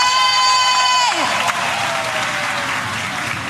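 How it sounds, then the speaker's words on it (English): An audience at a political event applauds and cheers for a dance company, a dense, steady burst of clapping with whoops and shouts. A fading music tone is heard briefly at the start. "please give another round of applause for Rudra Dance Company!"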